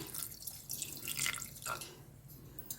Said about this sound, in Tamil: கொஞ்சம் தண்ணி ஊற்றுறேன்